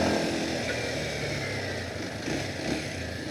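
A Kawasaki KLX 230 SM supermoto motorcycle fitted with a Norifumi aftermarket exhaust pulls in second gear while being ridden, giving a steady, moderately loud engine drone for a few seconds with no voices.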